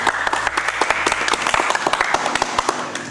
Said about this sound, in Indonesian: Yeay, tepuk tangan sekali lagi.